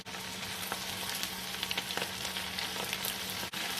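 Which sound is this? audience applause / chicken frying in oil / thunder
chicken frying in oil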